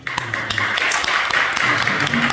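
Audience clapping at a church denomination press conference for a general assembly president, a fairly loud, continuous patter of hands with a few sharper individual claps standing out throughout.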